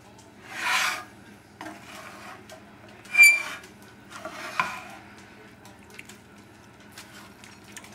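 Basmati rice, garbanzo beans, tomato sauce and vegetables are stirred in a pot with a spoon, giving intermittent soft scraping swishes and wet rubbing strokes, close and fairly quiet.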